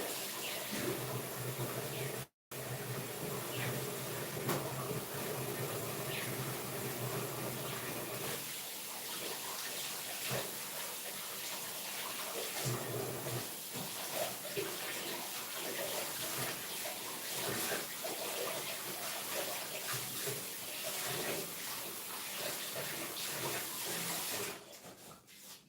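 An item is washed under a running tap, a loud continuous rush of water that briefly cuts out once and then flows on steadily for a long stretch, close by.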